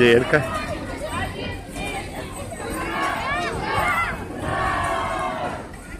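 At a Victory Day bicycle rally on 9 May, a large crowd outdoors shouts and cheers in rising and falling waves, with many voices overlapping loudly close by.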